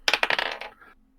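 Dice are rolled onto a table during a tabletop role-playing game session, with a quick run of hard clattering taps that tumble, slow and settle within about a second.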